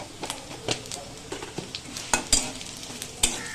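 Minced beef sizzles in a pan while a utensil scrapes and taps against the metal in quick, irregular strokes.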